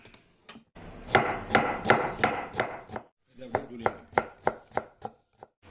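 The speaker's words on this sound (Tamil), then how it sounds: "இப்போ இதை தோலை உரிச்சிட்டு நான் கட் பண்ணி எப்படி இருக்குன்னு காமிக்கிறேன்" A knife cuts peeled kohlrabi for pakoda with crisp, close chops. A quick rhythmic run of cuts is followed by slower, evenly spaced strokes.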